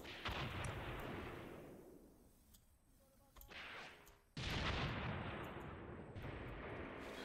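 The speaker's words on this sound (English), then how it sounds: "This other Flak 36 is shooting at it." Flak 36 anti-aircraft gun firing in the Graviteam Tactics war game, heavy booming reports with rolling battlefield rumble, a sharp loud blast near the middle followed by continued dense gunfire.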